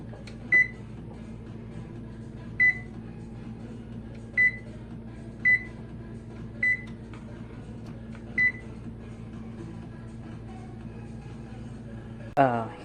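An oven control panel beeps six times at steady two-second intervals as it is set to bake at 450, short clear tones over a low background hum, with a brief louder clatter at the very end.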